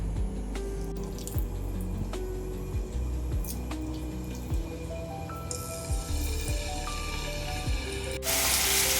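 Marinated chicken pieces go into hot oil in a frying pan: a few clanks and scrapes first, then a broad, steady hiss that swells toward the end.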